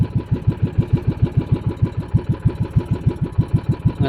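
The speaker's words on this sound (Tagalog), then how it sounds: "testing ako ng makina ko kung matino na rin to." A small engine runs steadily during a test after repair, firing in a fast, even pulsing rhythm at close range with no other sounds.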